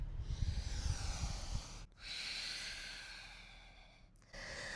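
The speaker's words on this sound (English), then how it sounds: "Try to keep your lips sealed, breathing in and out only through the nose." A person in a vinyasa yoga flow breathes in and out through the nose with lips sealed, producing soft, airy rushes that rise and fall in a few long, steady cycles, close and alone.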